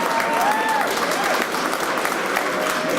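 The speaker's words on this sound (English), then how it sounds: "Can I get another round of applause for the nominees, the finalists," A crowd at the Prism Awards 2019 ceremony gives the nominees, finalists and winners a loud, sustained round of applause that fills the room throughout.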